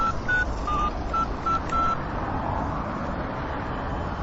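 A telephone number is dialed: a quick series of short electronic tones, about six beeps in uneven rhythm, over faint background traffic hum.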